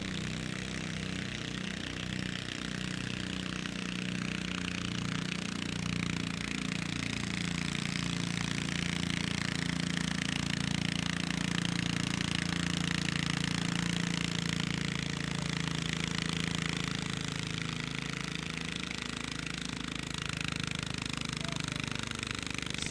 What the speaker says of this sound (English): So, does your garden tractor at home when you go out mowing sound like this?